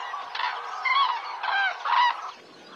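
A flock of cranes calls while flying overhead, a run of loud, ringing honk-like bugles that rise and fall in overlapping bursts, fairly close, with no talking.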